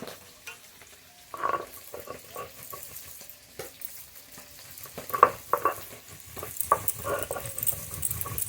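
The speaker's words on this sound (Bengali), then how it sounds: "মাছ খুব ভালো করে ভেজে নিয়েছি" Rupchand fish frying in a pan gives a low sizzle broken by scattered pops and spatters of oil, with a few sharper crackles, moderately close and without talk.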